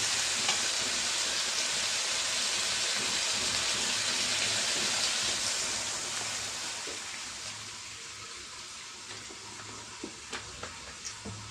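Dried fish curry with eggplant bubbles and sizzles loudly in a pan just after broth is poured in, a dense steady hiss that gradually quietens, with a few faint clinks toward the end.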